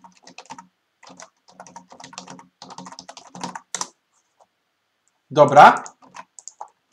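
Typing on a computer keyboard to enter a password, a scatter of light clicks running through the first few seconds, followed by a brief louder burst and a few more taps, with a short spoken word near the end.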